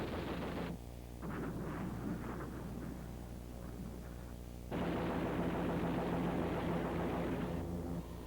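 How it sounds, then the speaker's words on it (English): The 30 mm belly gun of a Lockheed AH-56A Cheyenne attack helicopter fires a long, sustained roaring burst over the droning rotor and engine, swelling louder again partway through. "delivering suppressive fire with the 30-millimeter belly gun"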